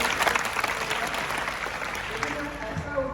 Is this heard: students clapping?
yes